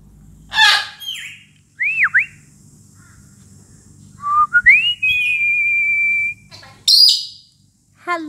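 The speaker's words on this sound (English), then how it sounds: "Oh, what a pretty bird." A pet bird, a parrot chewing bark, gives a string of whistles: rising and falling swoops, chirps and one long sustained tone, loud and close, with short pauses between calls.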